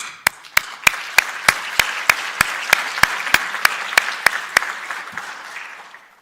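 Audience at a national space conference opening session claps in slow, even unison, about fifteen sharp hand claps spaced roughly evenly, fading slightly at the end.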